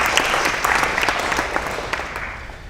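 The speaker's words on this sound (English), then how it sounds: "give yourselves a round of applause for being here and being such great students today" Students at a tourism press conference give themselves a round of applause, a steady burst of clapping from a room full of people that slowly tapers off.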